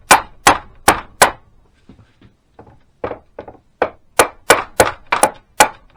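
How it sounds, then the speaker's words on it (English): Hide mallet tapping around the aluminium cases of a BSA A50 motorcycle engine to split them: a dozen sharp, close knocks in an uneven rhythm, a few quieter taps in between, no voices. "got a hide mallet, and just go around and tap it."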